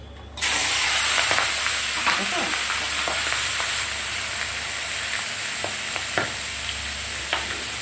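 Fish roe and fish fat frying in hot oil in a pan on a gas stove, sizzling steadily and loudly after the roe drops in, with sharp pops and spatters crackling through the hiss.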